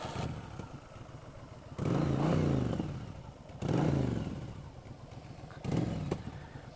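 A 1988 Yamaha XV1100 Virago motorcycle engine idles nearby and revs up loudly three times in a steady rhythm, each burst swelling and then falling back to idle.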